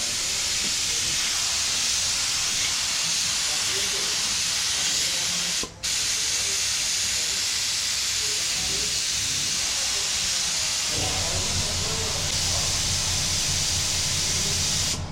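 A spray gun hisses loudly and steadily while laying black pearl paint onto a test panel, with one brief break partway through and faint voices underneath.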